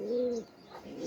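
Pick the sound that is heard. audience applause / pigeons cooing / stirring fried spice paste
pigeons cooing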